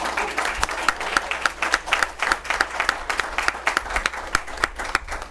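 Audience applause fills a board of education meeting, a dense, steady burst of many hands clapping at close range with no speech over it.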